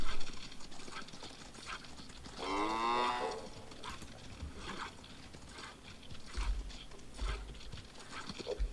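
Cows mooing during milking in the Project Zomboid video game, one long drawn-out moo in the middle among clip-clop hooves and farmyard game noise, fairly quiet overall.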